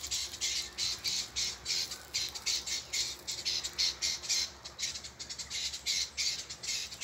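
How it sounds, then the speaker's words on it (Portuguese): Small birds squawking and squabbling near their nests, a rapid run of shrill, harsh calls in close bursts that repeat steadily throughout, fairly near and clear with no talking. "A briga aqui dos passarinhos. Eles brigando aqui, ó."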